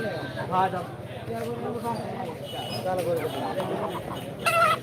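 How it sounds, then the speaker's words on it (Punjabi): Chickens and roosters cluck steadily at a busy goat and livestock market in Punjab, fairly close and continuous, with crowd chatter and voices throughout and a louder squawk near the end. "ਪਹਿਲਾਂ ਤੁਹਾਨੂੰ ਮੁਰਗੇ ਦਿਖਾਉਣੇ ਆ ਦੋਸਤੋ"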